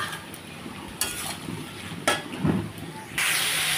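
Snake gourd tipped into a pan of browned onions brings a steady sizzle with a few stirring scrapes and clatters, rising into a louder hiss near the end.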